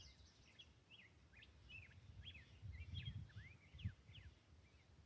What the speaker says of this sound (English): That's a black-headed grosbeak.